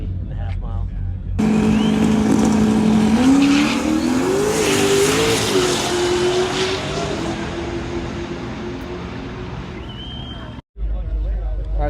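A Jeep race car with a Gen 3 Hemi engine, the fastest Jeep in the world on a half-mile run, blasts past loud and close, its engine note climbing as it accelerates over several seconds before cutting off abruptly.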